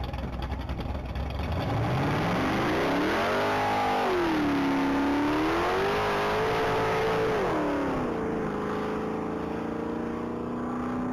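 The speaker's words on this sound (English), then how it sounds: "That's going to be a 1982 Pontiac Firebird piloted by Chuck Schmidt" A 1982 Pontiac Firebird accelerates on a top-speed mile run. The engine note climbs steadily through several gear changes, with the pitch rising, dipping and rising again, loud and close for about ten seconds.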